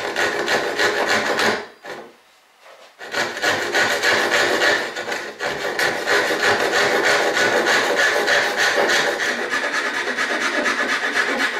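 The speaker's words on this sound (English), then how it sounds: "First of all, I want to cut 1/4 inch off the top of both tenons." A hand saw cuts through wooden tenons in a strong, steady rhythm of rasping strokes, loud and close, briefly pausing for about a second before the sawing resumes and continues to the end.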